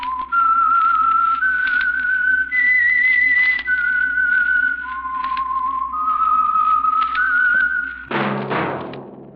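Solo human whistling of the theme melody from The Whistler radio show, a clear, close, sustained tune of held and sliding notes over about eight seconds, ending with a short loud thump.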